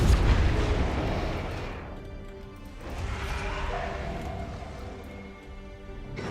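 Torpedo explosions in the space battle game Battlefleet Gothic Armada 2, a heavy rumbling boom at the start followed by another swelling blast, with dense low-end roar filling the whole stretch.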